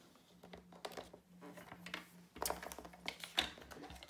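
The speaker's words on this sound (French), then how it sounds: "vous allez venir rainurer votre papier" Paper being scored with a light grey scoring blade, heard as a series of short, close scratchy strokes and taps that come in uneven bursts, quiet and intermittent, with soft speech in places.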